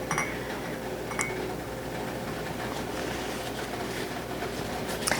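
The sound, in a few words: glass jam jars clinking while being wiped down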